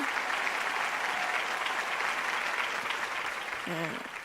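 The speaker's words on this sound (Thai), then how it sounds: "ขอให้ปรบมือให้ถึงคุณแม่ในสวรรค์เลยนะคะ" A ceremony audience at an Amway diamond-level award event applauds in tribute to a late mother: a sustained, full round of many hands clapping that fades slightly at the end.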